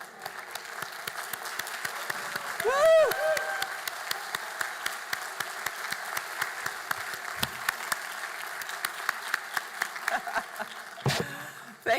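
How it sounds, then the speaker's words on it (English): Graduates at a Laurier University convocation, where an honorary doctorate is conferred, applaud their parents and families with steady crowd clapping that fills the hall throughout, and a single whooping cheer rings out early on. "And if you could applaud, because this is their day too."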